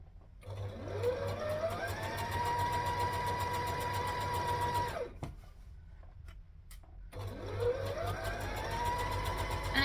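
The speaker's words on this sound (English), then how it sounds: "make sure that you really are stitching in that ditch" A sewing machine stitches in the ditch along a skirt seam, its motor whirring up to a steady close hum, stopping briefly, then starting up again.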